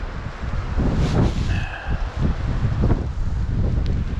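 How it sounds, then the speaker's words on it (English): Gusty wind along an Eastern Sierra stream buffets the microphone in uneven, rushing bursts, with a brief faint tonal whistle partway through. "This wind is just making it just really difficult to present anything."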